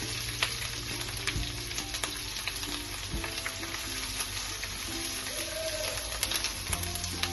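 Ginger and garlic fry in hot oil for prawn pulav with a continuous close sizzle and scattered crackles, plus occasional clicks from stirring. No one speaks.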